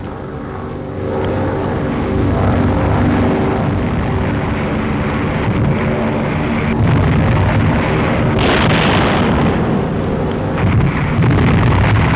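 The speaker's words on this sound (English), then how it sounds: "Bombers unleashed their annihilating force as never before." Bomber aircraft and bombing explosions during the North African campaign, a dense, loud, continuous roar of engines and blasts with a sharper burst near the end.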